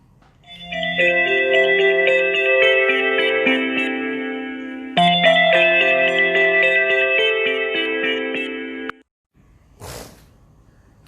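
A phone ringtone for an incoming call plays as a bright, tonal musical melody in two loud repeated phrases, each several seconds long, then cuts off, followed by a brief noisy burst.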